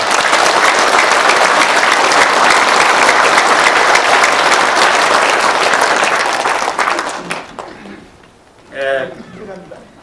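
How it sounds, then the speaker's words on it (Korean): Audience at a rally applauds the psychological warfare balloon team, a loud, steady wash of clapping lasting about seven seconds before fading out, followed by a brief spoken voice. "이 심리전 전사들에게 큰 박수를 한번 보내주시기 바랍니다"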